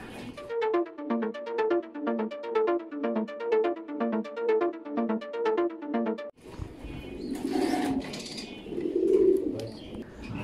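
Racing pigeons at a pigeon farm coo in a rapid, rhythmic run of repeated calls for several seconds, followed by a burst of muffled rustling and mixed background noise.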